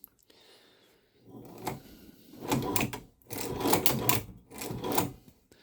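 A Chinese shoe patcher sewing machine stitches in several short clattering bursts of rapid mechanical needle strokes close by, separated by brief pauses.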